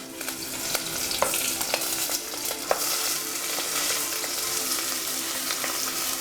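Onions, green chillies and curry leaves sizzle steadily in a hot pan, with a few sharp clinks of a spoon stirring through the continuous close frying hiss.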